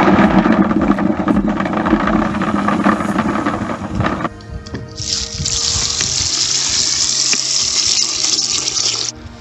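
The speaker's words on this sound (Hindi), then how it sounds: "तो इसमें अब मैंने पानी डाल दिया है" Water pours and gushes from a tap into a container of apples set to soak, a steady broadband splashing that shifts to a brighter, hissier fill partway through, close and loud with no talking.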